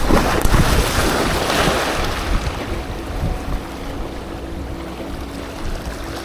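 Sea waves splashing onto a rocky shore in Lanzarote, loud broadband wash that surges at first then settles into a steady hiss with wind buffeting the microphone, no voices.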